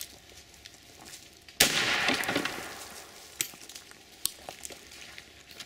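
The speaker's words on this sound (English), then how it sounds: "This time we have substituted the Nitro Express number 4 shot turkey load, firing from 10 feet into drywall." A shotgun fires a Nitro Express number 4 shot turkey load from 10 feet into drywall: one sudden loud blast, then a few seconds of decaying noise and some scattered sharp ticks.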